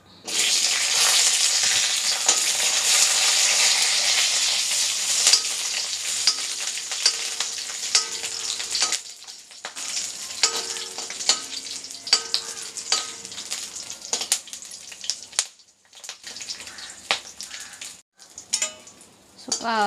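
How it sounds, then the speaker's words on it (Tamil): Green chillies sauté in hot oil in a pan, a loud, steady sizzle with the clatter of a spatula stirring, which fades partway through into scattered scraping and stirring sounds. "பச்சை மிளகா வதங்கிச்சு"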